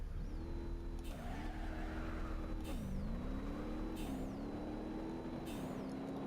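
A race car in BeamNG.Drive holds a loud, steady engine drone in seventh gear, its pitch climbing and then dipping sharply at regular gear-change-like intervals, with wind and road noise underneath.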